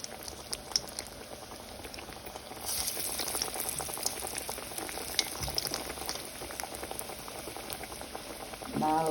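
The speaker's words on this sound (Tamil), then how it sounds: "இப்போ எண்ணெய் நல்லா சூடாகிட்டுது. வடையை நாங்கள் போடுவோம்." Vada batter dropped into hot oil, a continuous bubbling sizzle that grows louder after a few seconds as more batter goes in, steady and close, without talk.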